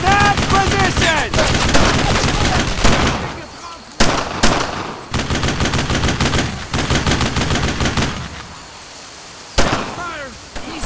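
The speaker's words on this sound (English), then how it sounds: "I need suppressing fire on that MG!" Machine gun fire in the World War II shooter Brothers in Arms: long, dense automatic bursts and scattered shots, loud and continuous with short breaks, with battlefield shouting mixed in.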